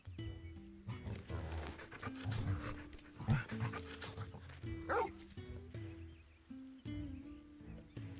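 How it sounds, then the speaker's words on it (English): A wolf pup from the video game Final Fantasy XIV pants and yips with growly dog-like noises and game music, a loud, busy stretch of breaths and short calls. "This is Torgal, a wolf pup raised in the Duchy."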